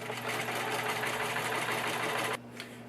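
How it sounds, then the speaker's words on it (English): Close, steady hum of a sewing machine stitching in the ditch along a pinned facing on a circle vest, running continuously for over two seconds before stopping abruptly. "So now I'm going to stitch in the ditch."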